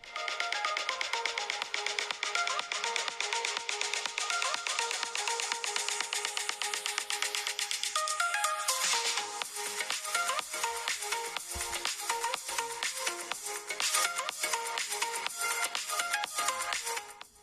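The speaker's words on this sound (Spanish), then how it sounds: "voy a dejar un pequeño ejemplo para que podáis comprobar la calidad de este altavoz" Music plays through the small built-in speaker of a Huawei Watch Fit 2, thin and tinny with steady tones, heard quietly and alone for about seventeen seconds.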